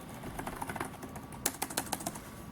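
Typing on the keyboard of an Acer One S1002 2-in-1 tablet, a run of quick, light, somewhat mushy key clicks in an uneven rhythm, close and clear with no voices.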